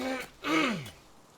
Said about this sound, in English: Sorry, let me clear my throat.